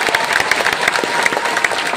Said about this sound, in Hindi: एक बार सबको ताली बजाओ जो 9 दिन पैदल चला।